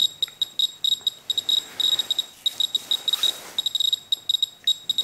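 A Geiger counter held near a radioactive Super Takumar 50mm f1.4 lens reading about 800 counts per minute sounds a high, rapid, irregular chirping alarm, dense clustered beeps running nonstop and close.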